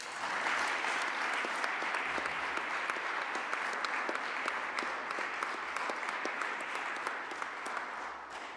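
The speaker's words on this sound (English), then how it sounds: "A big applause for Rita Kovac." A dense, steady burst of audience applause fills a graduation ceremony hall, continuous and fairly close for several seconds.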